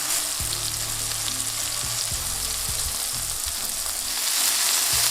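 Smash burger patties sizzle and fry on a hot griddle, a steady loud crackling hiss with a few scraping, stirring knocks, no voices over it.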